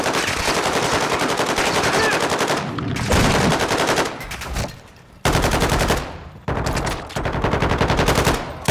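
Rapid automatic gunfire from a weapon in the shooter game Call of Duty: Modern Warfare II, loud and close, coming in several sustained bursts with short breaks between them.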